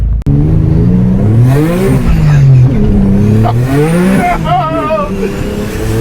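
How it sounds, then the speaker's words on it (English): A turbocharged Acura TL Type S pulls hard from a green light, its engine climbing in pitch through rising sweeps and gear changes, loud from inside the cabin, with voices talking over the engine. "as soon as this light turns green, we're gonna go for a second pull"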